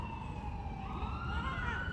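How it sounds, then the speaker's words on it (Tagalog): An ambulance siren wails steadily on a Philippine road during a commute ride, its rising and falling tone sustained throughout over a low rumble of traffic and wind. "Yan, may ambulansya."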